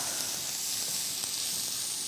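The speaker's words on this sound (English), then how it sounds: "start kind of stir frying them up" A continuous hissing sizzle of vegetables stir-frying in a hot pan for turkey bacon egg rolls, steady and close, with faint clicks of stirring.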